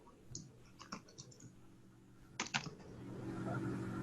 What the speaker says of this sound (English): we're going to type in Savannah